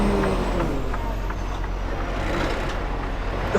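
A heavy truck engine labours to pull away on a roadside, a steady low rumble and drone holding throughout with faint traffic noise around it.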